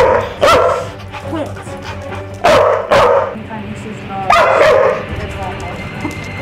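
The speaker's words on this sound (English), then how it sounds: "we're working on some barking" A dog barks sharply several times in short clusters, loud and close, over a low steady background hum.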